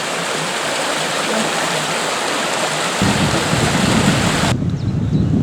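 Mountain torrent rushing beside the ruin of an old flour mill on a hiking trail, a steady loud broadband water roar throughout with wind buffeting the microphone in the second half.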